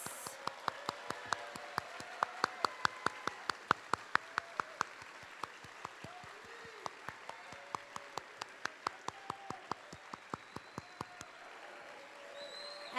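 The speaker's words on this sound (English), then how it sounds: "Let's give a round of applause for all of the Virtual Academy graduates." Steady applause from an audience at a Virtual Academy commencement ceremony for the graduates, thin and somewhat distant, with crisp individual claps standing out over a soft crowd wash for about eleven seconds before fading.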